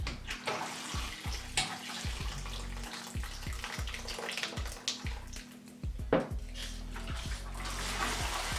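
Water poured steadily onto the soil of a big potted Monstera deliciosa house plant indoors, a continuous close trickle and splash with brief soft thumps, no voices.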